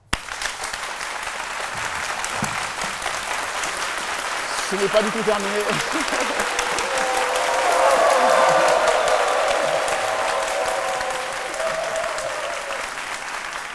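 A studio audience on a French midday show applauds the host, sustained clapping that swells in the middle before easing, with a voice speaking briefly over the start.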